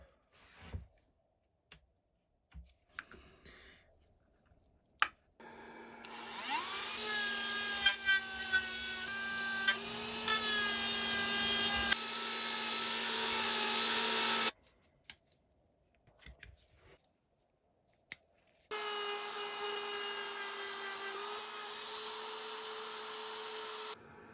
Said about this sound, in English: The Dremel was just heating them up, just a bit too much.